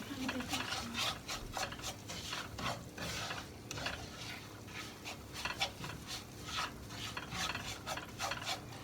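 Semolina is poured into melted solid fat in a pot and stirred for irmik helvası, a steady run of scraping spoon strokes with a soft sizzle beneath, close and fairly even throughout.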